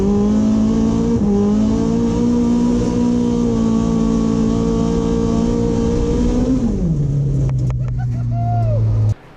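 Car on Kenda KR20A 195/55R15 drift tires revving hard in second gear, the loud sustained engine note holding steady then dropping in pitch as the tires spin, cutting off abruptly at the end.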